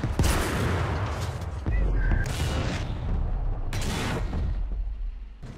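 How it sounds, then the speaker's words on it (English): Tank gun fire in a British war film parody of Fury: heavy booming blasts land roughly every second or two over a constant rumbling engine bed, loud and close, with voices speaking in between. "Gunner, would you please open fire?"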